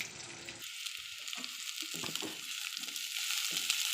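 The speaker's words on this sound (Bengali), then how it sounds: "হালকা করে ভেজে নেব।" Vegetables frying lightly in a pan, a soft, faint, steady hiss of oil with occasional quiet stirring noises.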